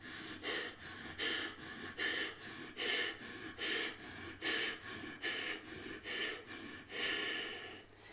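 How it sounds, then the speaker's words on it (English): Rapid, forceful bellows breathing from Bhastrika pranayama practice, a steady rhythm of about fourteen sharp nasal inhales and exhales over eight seconds, close and fairly quiet, with no talking. "we're going to do our third and final round of Bhastrika, bellows breath"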